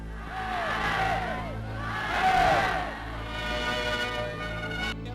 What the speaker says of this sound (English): a packed stadium and flag-draped cheering streets greet Chancellor Hitler on his way to perform the opening ceremony